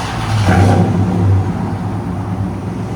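A 1966 Dodge D-100 pickup with a Hemi V8, X-pipe and Borla ATAK exhaust gives a short, loud rev that swells briefly and then settles back into a deep, steady idle rumble.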